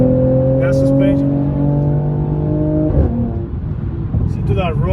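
A 2021 Mercedes-AMG C43 with all-wheel drive revs hard up through the gears, loud and close, its rising engine tone dropping at a shift before climbing again, with brief voices in the background.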